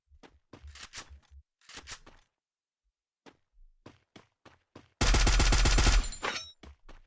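Video game gunfire from a shooter with grenades: a dense, loud burst of rapid automatic fire lasting about a second, following scattered clicks and footstep-like taps, with a player speaking.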